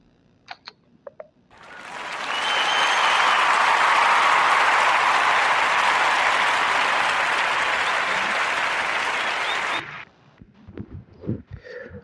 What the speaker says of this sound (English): I'll give a warm narrative podcast round of applause for 310 Brown Street and Christopher Michael